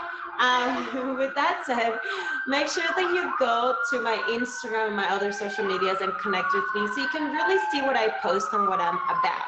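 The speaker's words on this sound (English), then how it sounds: "sorry about the sirens. My windows are open," A siren wails steadily in the distance outside an open window, rising and falling, while a person talks over it throughout.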